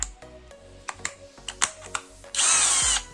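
A Parkside 12V cordless drill (PBSPA D4 Performance) gives a string of short clicks and taps, then a brief close whir as it starts drilling a hole.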